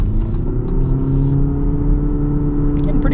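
A 2026 Jeep Cherokee Limited with a 4-cylinder engine accelerates, heard from inside the cabin as a steady, droning engine hum with a deep rumble running continuously throughout.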